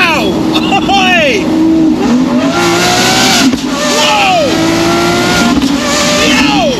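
A straight-piped Lamborghini SVJ Roadster engine screams through repeated upshifts and downshifts, loud close rising and falling revs with sharp breaks between gears, while people shout excitedly over it.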